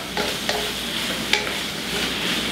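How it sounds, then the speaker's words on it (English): Pad thai with spring onions is stir-fried and tossed in a hot pan, a continuous near sizzle broken by a few sharp scraping strokes of the spatula and no voices. "Add those right in at the end and mix them together."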